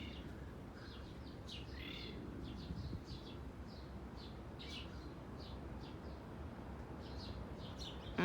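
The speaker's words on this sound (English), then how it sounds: "There's a mockingbird. I didn't realize it was up there." Faint mockingbird song, varied chirps and short phrases repeating at a distance over a low, steady outdoor rumble.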